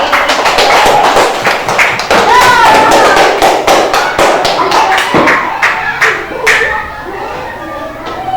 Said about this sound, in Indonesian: Terima kasih tepuk tangan untuk Bapak.